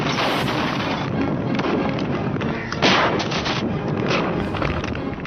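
A gunfire sound effect delivers a dense, loud barrage of shots and rumbling blasts that continue without a break, with a heavier hit near the middle.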